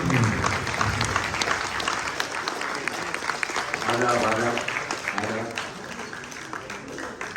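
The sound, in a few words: audience applause at a stage event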